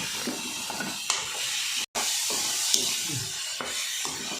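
Grated fresh coconut and sugar hiss and sizzle softly in a pan while being stirred, faint scraping strokes repeating over a steady low sizzle, with one brief silent gap.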